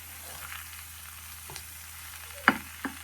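Raw banana slices fry in a pan with a soft, steady sizzle, broken near the end by two sharp clicks from stirring. The scene is quiet and no one talks.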